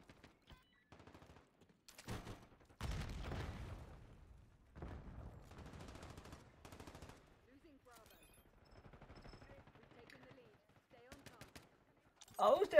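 Bursts of automatic and shotgun gunfire in the shooter Black Ops 6, rapid cracking volleys that come and go across the stretch, with a voice talking over much of it and a louder burst at the end.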